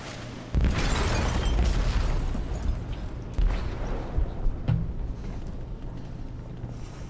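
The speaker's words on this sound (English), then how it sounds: "They detonated an explosive in the hold." A heavy explosion detonates in a ship's hold in the video game Detroit: Become Human, a loud booming blast with rumbling debris, followed by a second deep thud and lingering low roar.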